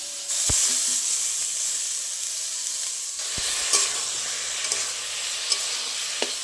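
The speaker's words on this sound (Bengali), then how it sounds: "ঝিঙেটা আমি ভালো করে ভেজে নিয়েছি" Ridge gourd pieces frying in hot oil in a pan, a continuous close sizzle broken by a few scraping stirs and light knocks of a spatula.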